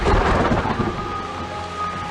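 Steady rain falls with a low rumble of thunder rolling through it, a dense wash of rainfall sounding close and continuous with no voices.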